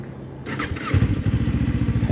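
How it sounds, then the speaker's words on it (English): A motorcycle in dry, dusty Arizona cranks with a short starter whir, then catches into a steady, close, pulsing idle. "turn the bike on."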